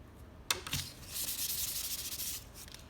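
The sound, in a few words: pastel scumbling on paper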